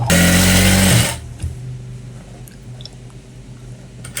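A sewing machine runs in one loud, steady burst of stitching along the hem of a uniform shirt sleeve, then stops abruptly and leaves only a faint low hum and light handling noises.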